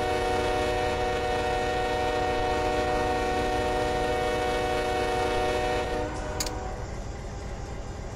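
A 9,000-foot intermodal freight train in a train simulator sounds a long, steady horn over the rumble of rolling cars, then the horn cuts off and the rail noise carries on more quietly.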